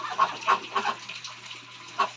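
Young chicks in a breeder pen give a run of short, close peeping calls in quick bursts over a couple of seconds, fairly faint, with no talk.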